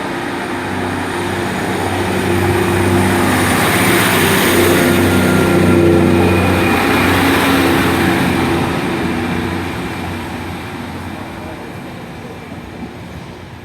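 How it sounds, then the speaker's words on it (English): Northern diesel multiple unit 15206 pulling out of Dewsbury station towards Leeds, its engine drone swelling to a loud rumble with droning tones, then slowly fading as it leaves. "departing out now is 15206, which is on a northern service to Leeds, the delayed 1543 departure"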